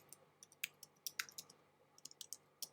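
Close typing on a computer keyboard, a quick irregular run of crisp light key clicks with short pauses between bursts, alone without talk.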